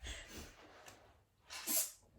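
A single quiet sneeze, preceded by a soft inhaling breath, close to the microphone.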